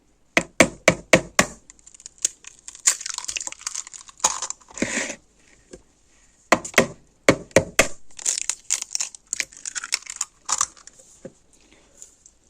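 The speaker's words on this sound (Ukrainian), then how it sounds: "Кидаємо яйце." An egg cracked into milk for pancake batter, sharp taps and clicks in quick clusters followed by crinkly, wet rustling and scattered knocks, close and fairly quiet with no talking.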